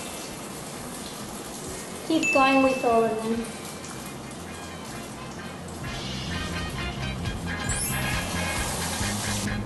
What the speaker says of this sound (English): Make sure the drips come off before it goes into the fry pan.